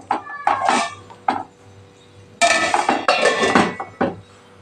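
Metal cookware clatters several times as a lid is set onto a pot of Kathiyawadi dambha vegetable curry, with sharp close clanks and scrapes in separate bursts and no talking.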